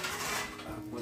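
A plate is lifted out of a stack in a home kitchen, giving a brief, close clatter of crockery and a light scrape that lasts about a second, with no voice over it.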